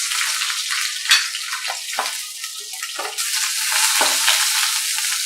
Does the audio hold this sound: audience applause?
no